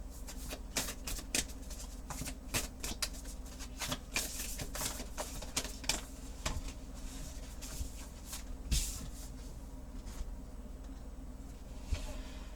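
A Moonology Manifestation oracle card deck is shuffled in quick, quiet riffling bursts of papery flicks and taps, close and soft, with a few pauses between bursts.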